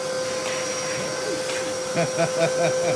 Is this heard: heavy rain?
no